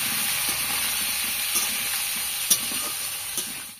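Elephant foot yam cooking in a pan over a wet wood-fired clay stove on a rainy morning, giving a steady, loud sizzle and hiss with occasional stirring scrapes close by.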